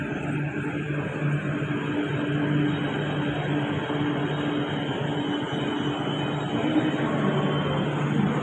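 A steady rumble and hum of riding inside a passenger train heading toward Diamond Hill, continuous and moderately loud with a constant high tonal whine over it throughout.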